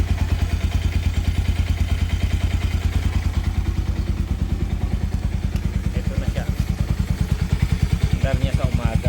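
A motorcycle fitted with a 78mm bore kit idles after a morning start, its engine thumping in a fast, even rhythm close by, loud and steady with slight clatter throughout.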